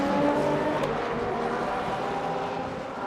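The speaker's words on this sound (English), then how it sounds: "Wow, the Porsche sliding on the curb." Porsche race car in a multi-class racing game at the Brazil circuit, its engine roaring loudly and steadily as it slides over a curb, a brief scrape near the start within the continuous drone.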